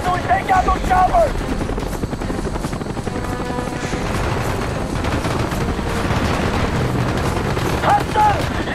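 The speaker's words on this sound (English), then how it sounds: "We can't move until we take out those choppers!" Helicopters roar through a battle in the Call of Duty Black Ops video game, a loud continuous rotor drone mixed with bursts of gunfire and explosions and shouted voices over the din.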